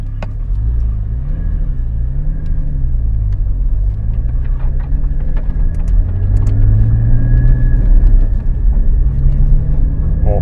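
A Porsche Cayman GT4 of the 981 generation pulls away, its engine a loud, close, continuous rumble with rising and falling revs over about ten seconds, with no voices.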